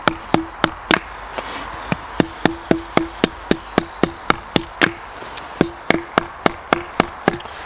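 A knife from a CIMA T106 gadget is driven in with a series of sharp, evenly spaced impacts, roughly two or three per second, each one crisp and close. No voices are heard.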